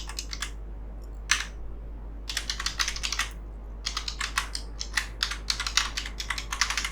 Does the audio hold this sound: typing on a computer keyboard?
yes